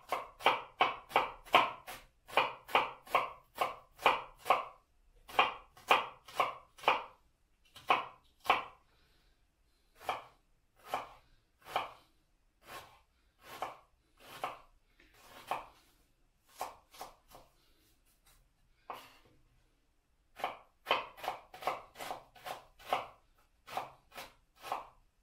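Knife chopping an onion thinly on a board for homemade Turkish pide, with steady bursts of rapid close cuts separated by short pauses and slower single strokes in between.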